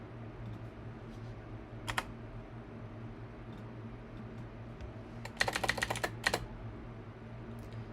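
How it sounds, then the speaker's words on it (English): A computer keyboard clacks in two short bursts of typing, one brief flurry and then a longer run of quick keystrokes, close by over a quiet room hum. "Hopefully the sound of the computer keyboard clacking isn't a huge deal."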